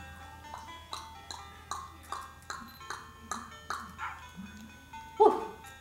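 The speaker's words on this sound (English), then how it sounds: "What was that woof?" A dog barks about ten times in a steady, evenly spaced series of moderately loud woofs, ending with one louder, sharper bark, over a low constant background hum.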